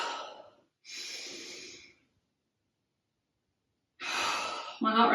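Heavy, deep breaths follow a home bone-density workout: three loud exhales spaced by silent pauses, close to the listener, with no talking.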